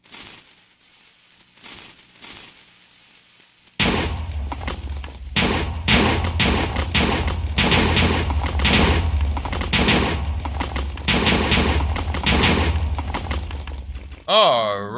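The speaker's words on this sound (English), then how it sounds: "welcome back from all that digging and explosions, and I still have a lot of TNT left" TNT explosions in a video game, a rapid chain of loud booming blasts and crunching debris rolling on for about ten seconds after a quieter opening, ending with a sweeping tone.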